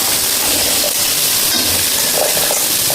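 Chickpeas go into golden fried onions in hot oil, making a loud, dense, continuous sizzle and hiss close by, with no talking over it.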